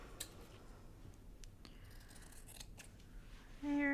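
Scissors cutting paper for a junk journal cover, a few faint close snips and rustles, followed by a brief louder tone at the end.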